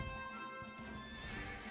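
A horse whinnies in the Dragon Quest 11 video game, a bright, wavering neigh with a few hoof clip-clops, set against steady game background sound.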